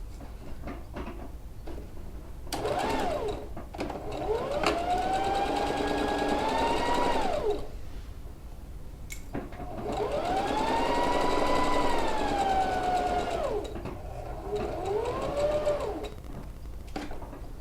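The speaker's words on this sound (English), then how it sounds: "So putting my machine back on a straight stitch, and I'm just going to stitch across this pocket panel." A sewing machine straight-stitches across a quilted coat pocket panel. Two long, steady motor whirs that rise and fall in pitch are framed by shorter bursts, close and fairly loud, with no talking.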